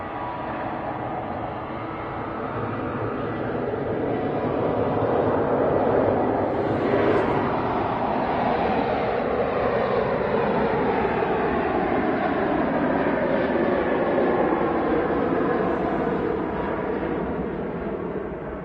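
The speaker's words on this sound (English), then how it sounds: "So that was a Ryanair 737 off to Marseille." A Ryanair Boeing 737 taking off from Manchester Airport for Marseille: a loud, broad jet roar that builds, holds steady for many seconds and fades slightly as the aircraft departs.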